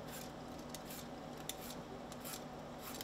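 Soft, steady scraping of a peeler drawn along a cucumber, with rhythmic rasping strokes close by in a quiet kitchen.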